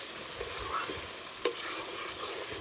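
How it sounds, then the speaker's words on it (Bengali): Spice paste frying in oil for a pointed gourd and prawn curry, a close, steady sizzle broken by a couple of spatula scrapes and stirring strokes, with no voices. "ভালোভাবে ভাজা হয়ে গেছে তেলও ছেড়ে দিয়েছে"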